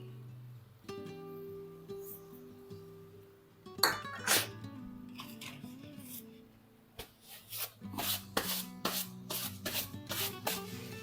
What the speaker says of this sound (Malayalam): ഇതെല്ലാം നല്ലോണം മിക്സ് ചെയ്യേ.